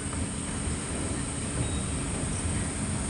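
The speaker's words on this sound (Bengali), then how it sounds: "কত সুন্দর আগে আগাচ্ছে ট্রেনটা, কত সুন্দর যাচ্ছে আগে ট্রেনটা" A Vande Bharat train runs along in a steady, even rumble with a constant high hiss of air and track noise, heard continuously from on board without any talk.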